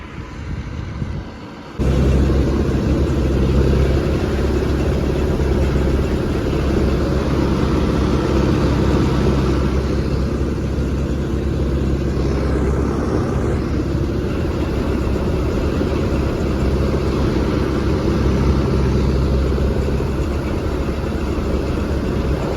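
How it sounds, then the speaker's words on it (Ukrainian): A ZIL truck approaching across a farm field during a sunflower harvest, its engine a steady, loud low rumble that holds for about twenty seconds after a brief quieter start. "Так що їде мені на допомогу ЗІЛ."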